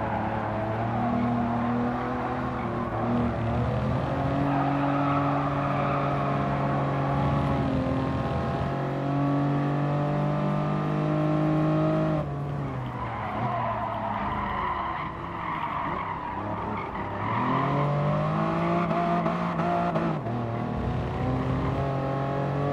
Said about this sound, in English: Keep just peeling out like that.